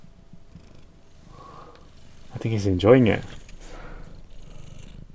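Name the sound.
cat purring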